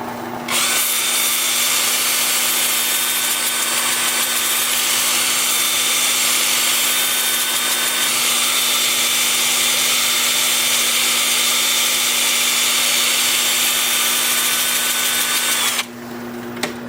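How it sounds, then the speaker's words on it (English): Wood turning on a lathe spinning at 350 while a 2-inch 100-grit sanding disc works a holly piece, producing a loud, continuous whirring grind that starts abruptly and stops just before the end. "I'm going to start sanding at 100 grit with my 2-inch disc"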